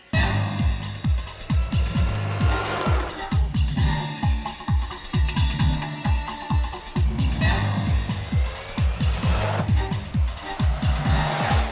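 A car races through a chase in a crime drama scene, its engine roaring continuously with rhythmic revving surges and dramatic background music layered on top.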